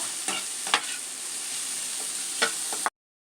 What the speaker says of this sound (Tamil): எல்லாத்தையும் சேர்த்து நல்லா வதக்கி விடலாங்க.